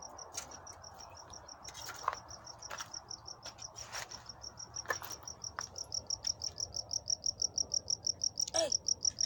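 Steady, rapid cricket chirping inside a house pulses through the whole stretch, growing louder and more evenly rhythmic toward the end, with a few faint clicks and a brief bird note.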